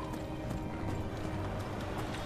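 Horse hooves clip-clopping in the Echo of Soul video game, a steady quick patter of hoofbeats running continuously over a dense background of game ambience, fairly close and even in level.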